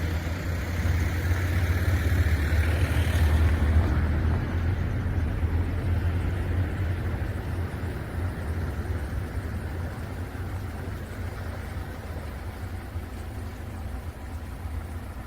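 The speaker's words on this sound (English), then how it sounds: "but I think a truck was going past at the time" A truck passes by in the early morning in São Martinho do Porto, Portugal, a steady low engine rumble that swells in the first few seconds and then eases off into a continuing background drone, with no talking.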